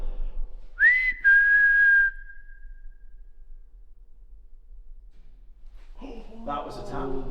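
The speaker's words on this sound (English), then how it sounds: "Can you try and copy my whistle?" A person whistles a single sustained clear note lasting about a second, heard close and alone in a quiet old prison interior, followed later by voices talking.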